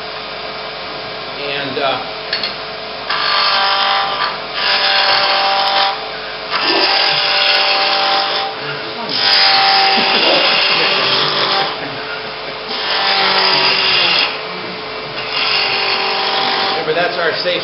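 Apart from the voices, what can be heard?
wood lathe turning a bud vase blank with a spindle gouge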